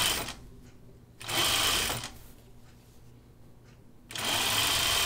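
A sewing machine stitches a quarter-inch seam on a button-up shirt, running in three bursts of fast rhythmic whirring, close by, separated by short pauses with soft handling sounds.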